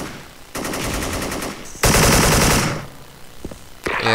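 AK rifle fire in the BunkerBuster video game comes in two loud bursts of rapid automatic shots separated by a short pause, with a brief third burst starting at the end.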